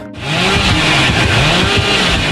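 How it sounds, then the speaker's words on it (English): Hillbilly's chainsaw in Dead by Daylight, revving loud and close as a steady, buzzing engine roar that holds for about two seconds after a brief silence at the start, with a slight rising and falling pitch. "When he runs with his chainsaw, he moves very fast."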